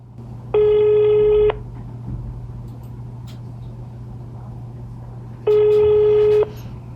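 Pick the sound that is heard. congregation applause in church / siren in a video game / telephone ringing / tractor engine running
telephone ringing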